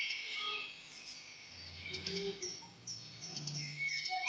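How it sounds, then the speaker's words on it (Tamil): A green parrot calling, with scattered high chirps and whistles over a faint, busy background of other birds and low murmuring. "பச்சை கிளி."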